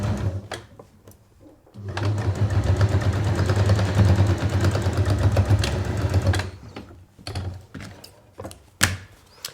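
A sewing machine stitches across the bottom of a zipped make-up bag in one steady, loud whirring run of several seconds, framed by quieter handling clicks and knocks before and after.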